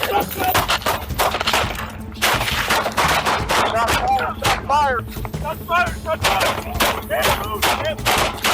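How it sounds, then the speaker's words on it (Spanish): Rapid bursts of gunfire from police officers crack repeatedly, close and loud, with shouting voices mixed in between the shots. "Estallaron disparos de ambos oficiales."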